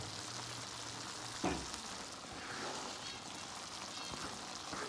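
Onions sizzle in a hot pan after being added, a soft steady crackle with one brief clatter near the start, quiet and without talk.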